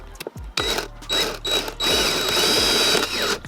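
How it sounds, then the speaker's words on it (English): A power drill bores holes into a new 2022 Superjet stand-up jet ski hull, several short bursts of whirring with brief pauses between, close and fairly loud. "You're just drilling into your nice new OEM ski."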